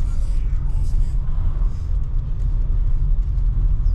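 Steady low rumble from inside a car driving on the road away from a UK holiday park, with road and engine noise continuous throughout and voices faintly present.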